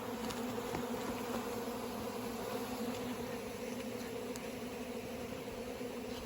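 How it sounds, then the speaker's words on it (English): A dense, steady buzz of honeybees fills the air as they are shaken off a brood frame into a nuc, with the close swarm drone continuing unbroken and no talking. "I'm going to keep shaking probably at least half the bees in here"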